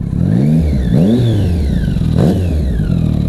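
A Triumph Street Triple 675R motorcycle, freshly serviced after a punctured, dry radiator, revs up sharply several times in quick succession, loud and close, with the engine pitch climbing and dropping between bursts.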